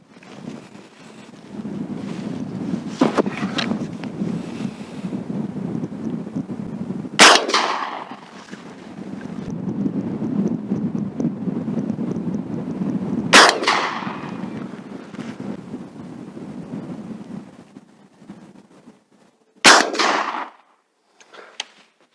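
Three sharp rifle shots ring out several seconds apart, fired at a kitchen gas cylinder from 25 metres, each loud crack echoing over a steady background of outdoor wind noise.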